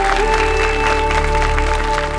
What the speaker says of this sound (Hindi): पर उसके पहले हमारे सारी बहुओं के शानदार परफॉर्मेंस के लिए जोरदार तालियां हो जाए